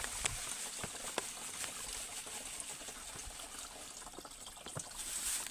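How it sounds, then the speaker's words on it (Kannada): Water trickles and splashes steadily into a farm sprayer tank being filled, a close, continuous pouring sound with small irregular drips and no talking. "ನೀರು ತುಂಬಲೈತೀನಿ."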